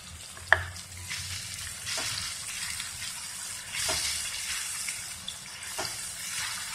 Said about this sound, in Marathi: खोबरे, कोथिंबीर, आलं, हिरवी मिरची हे आपण घालून भाजून घेणार आहोत।